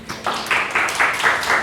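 Applause from an audience at a medical students' debate on abortion: a brief, dense burst of clapping, fairly close and steady, lasting under two seconds.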